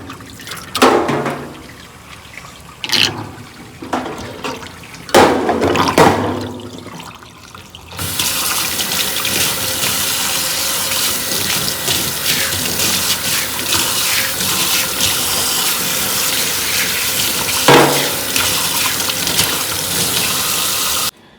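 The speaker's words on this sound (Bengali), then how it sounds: "জলটা বার করে দিই।" Water from freshly washed leafy greens is drained off: splashes and drips at first, then a steady gushing pour that runs on continuously near and loud, with no talking.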